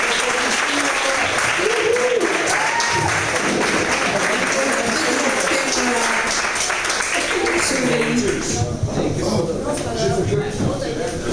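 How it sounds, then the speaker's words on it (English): Audience applause at a humanist workshop, steady dense clapping from a crowd throughout, loud and continuous with some voices mixed in. "And applause for the photograph."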